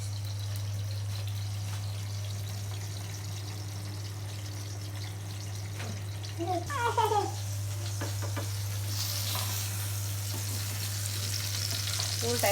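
Food fries in a pan on a home kitchen stove, giving a steady low sizzle with brief clinks and stirring scrapes midway, and a faint constant hum underneath.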